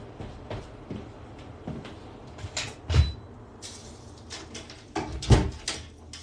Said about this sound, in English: Let me close this damn door or this window.